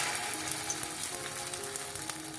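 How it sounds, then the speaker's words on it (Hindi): Beef kebab patties for burgers frying in hot oil in a pan, a steady, dense sizzle and crackle that continues close and even throughout with no talking. "इनको फ्राई करना स्टार्ट करते हैं कबाब को। इनको अब फ्राई करते हैं हम।"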